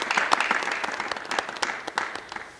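Church congregation bursting into applause during a sermon, a dense round of many hands clapping, loud at first then thinning out toward the end.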